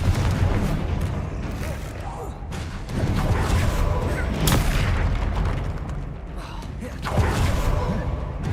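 Bombarda explosion spell cast in the Hogwarts Legacy video game, heavy booming blasts and bursts in a dense, loud battle mix with repeated impacts.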